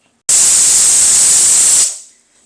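A pressure cooker cooking a Kerala curry lets off a single loud, steady hissing steam whistle, close, lasting over a second before cutting off and fading.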